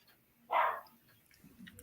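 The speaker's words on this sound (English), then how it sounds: "my dog's coming in loud" A pet dog gives one short, muffled bark in the background of a quiet room, faint and distant, with no talk.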